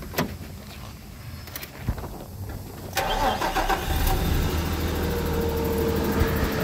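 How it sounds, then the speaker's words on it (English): A Nissan Navara D40 engine cranks briefly and catches, then settles into a steady close idle after a few seconds of quieter ambient noise and small clicks, with no talking. "So essentially we just need to go start the car"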